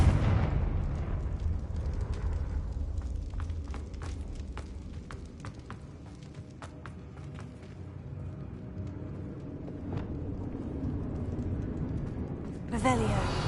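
Fire-spell blast in Hogwarts Legacy on PS5, heard as a sustained roaring, rumbling explosion with crackles that fades over several seconds, followed by a fresh loud burst near the end, with a voice speaking over it.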